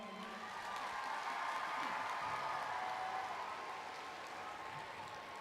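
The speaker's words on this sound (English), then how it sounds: "let's give her a round of applause." Crowd applause at a youth pow-wow, faint and distant, a soft wash of many hands clapping that swells slightly and then fades over several seconds, with a little cheering mixed in.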